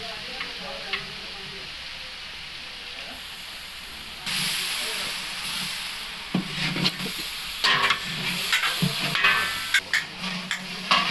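Green chili paste hitting hot oil, a loud sizzle that jumps up suddenly and keeps hissing, with stirring scrapes and clatters from a large cooking pot, close by.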